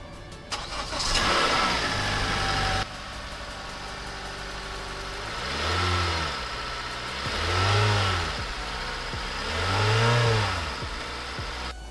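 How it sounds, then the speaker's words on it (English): A 2016-2020 Honda Civic with its stock air intake cranks and catches, settles into a steady idle, then gives three smooth rising-and-falling revs, close up with no talking. "I'm going to start the car to see how stock intake sounds."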